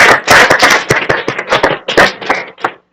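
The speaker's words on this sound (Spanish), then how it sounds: "Un aplauso para las hermanas también." Applause for the sisters at a Sabbath gathering: a burst of loud, close hand clapping from a small group, uneven and dense, tapering off near the end.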